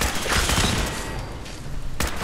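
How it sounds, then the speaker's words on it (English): Gunfire in the video game Fallout 4, with a dense burst of shots early on and a second sharp report near the end, loud and close over a noisy background. "Oops, I just shot Cosmo."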